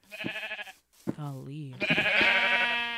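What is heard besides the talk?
sheep bleating in the video game Minecraft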